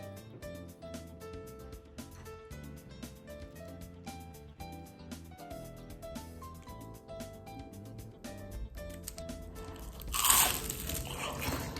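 Crispy tempura being bitten and chewed close up, a loud crunchy bite near the end over steady background music, with no talking.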